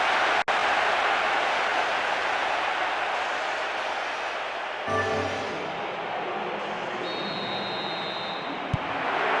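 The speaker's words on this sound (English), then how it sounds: "This crowd is making so much noise." Crowd noise at a match in the football video game Pro Evolution Soccer 4, a broad, steady roar of a stadium crowd that dips slightly midway, with a brief whistle-like tone near the end.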